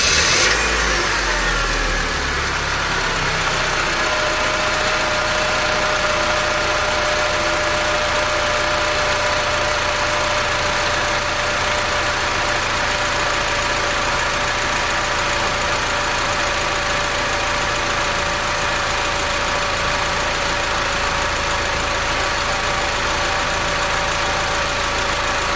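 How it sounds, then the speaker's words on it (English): An 8th generation Honda Civic engine idles steadily right after an oil change, a continuous close hum with a constant tone running throughout, following a brief louder start at the beginning. "Normally it started for like 15 or 30 seconds, let it run, and then turn out the engine and check it again."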